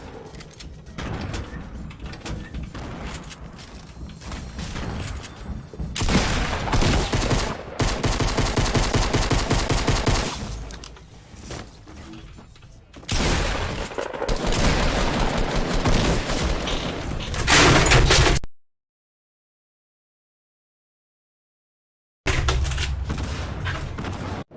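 Shotgun fire in the Fortnite video game, loud repeated blasts and bursts of gunfire packed densely over most of the stretch, cutting to silence for a few seconds before resuming.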